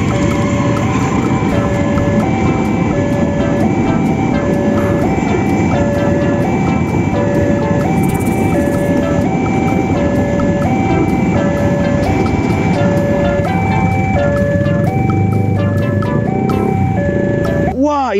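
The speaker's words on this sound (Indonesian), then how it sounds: "ini adalah palang pintu perlintasan kereta api teman-teman." A toy railway crossing signal on a miniature train set dings in a steady repeating two-tone rhythm, loud and close, over a rumbling background.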